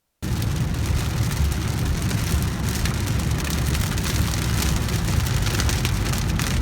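Steady heavy rain pours onto surfaces in Las Vegas, a dense continuous hiss that holds loud from start to end, with no voices.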